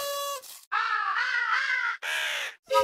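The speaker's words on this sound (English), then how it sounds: "Find the crow." A crow cawing: a series of loud, harsh, drawn-out caws, one long call followed by shorter ones, clear and close with no other sounds.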